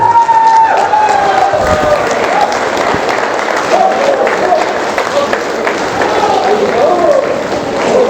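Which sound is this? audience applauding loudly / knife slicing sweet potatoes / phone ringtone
audience applauding loudly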